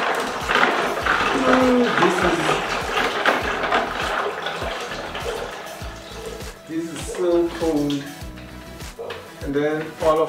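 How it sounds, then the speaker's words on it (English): Water splashes and pours into a bucket of ice, a close, gurgling stream with clinking and sloshing that comes and goes, while a person talks over it at times. "let me put in some water."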